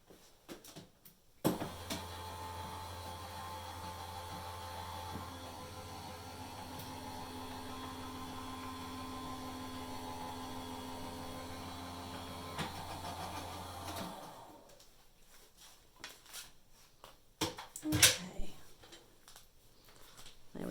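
A paper-crafting embossing folder rolling through a hand-cranked die-cutting machine: a steady mechanical hum and whir for about twelve seconds, then stops, followed by rustling, clicks and handling noises.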